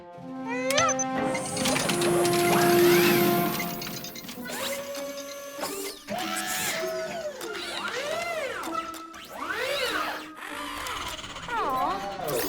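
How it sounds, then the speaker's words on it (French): Cartoon sandwich-making machine running after a button press, giving rising and falling whirring, beeping mechanical tones in repeated sweeps, with cartoon voices and music mixed in throughout. "nous allons tester notre toute première machine à fabriquer des sandwichs"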